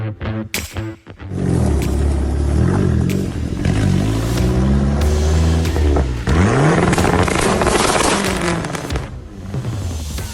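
A loud, close turbocharged Dodge Neon SRT-4 engine revs hard repeatedly, roaring up and down in pitch with crackling pops and whooshing bursts between throttle blips.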